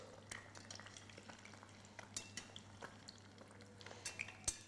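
An egg sizzles gently in hot oil in a pan, a soft steady hiss with small crackles and a few light clinks of a utensil against the pan.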